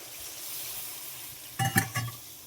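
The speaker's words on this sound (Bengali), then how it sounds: "দেখো মশলাটা কষানো হয়ে গেছে, এবার জলটা দিয়ে দেবো।" Water hits hot spice paste frying in a pan for a Bengali fish curry, giving a quiet background sizzle and then a short, sharp burst of hissing and clatter near the end.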